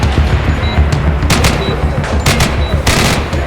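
Breaching charge and gunfire in the tactical shooter Door Kickers 2, heard as loud, dense bursts of shots with sharp blasts that keep recurring throughout, with no speech over it.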